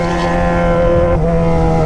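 A Yamaha XJ6 motorcycle with a straight-pipe exhaust holds a loud, steady, buzzing rev close by, its tone shifting slightly partway through, with no talking.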